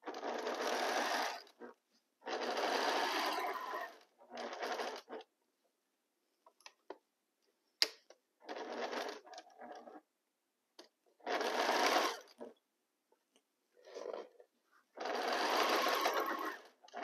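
A sewing machine runs in repeated bursts of steady whirring stitching lasting one to two seconds, separated by quiet pauses and light mechanical ticks, close and fairly soft.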